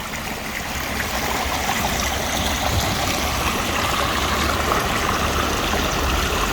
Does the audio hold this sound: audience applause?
no